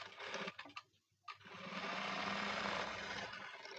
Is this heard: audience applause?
no